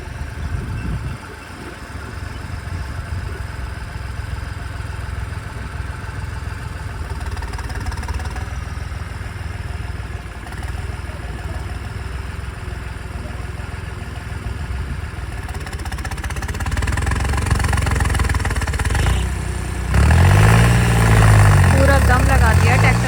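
A tractor engine labours at low pitch while straining to drag a stuck Suzuki Jimny through soft mud, the rumble thickening and surging louder toward the end under background chatter.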